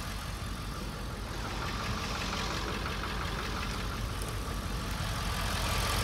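A vehicle with a weak, low battery idles after a jump start from a NOCO Boost XL 12-volt 1500-amp pack, its engine rumbling in a steady, close, unbroken run.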